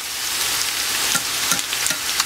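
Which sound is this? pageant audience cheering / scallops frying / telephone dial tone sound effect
scallops frying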